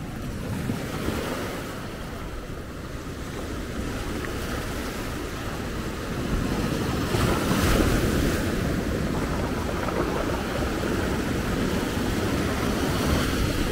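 Atlantic surf breaks continuously on the shore at the Faro lighthouse in Maspalomas, Gran Canaria, a loud, steady roar that swells midway, with wind buffeting the microphone and no voices.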